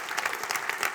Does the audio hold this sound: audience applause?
yes